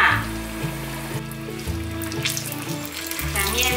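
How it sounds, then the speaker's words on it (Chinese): Tofu skin and taro paste dropped into hot oil for deep-frying, with a brief splashy burst at the start settling into a hissing, bubbling fry over quiet background music. "把豆包和芋泥放进来炸"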